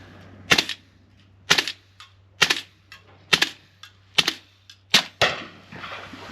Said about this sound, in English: Right, firing a few.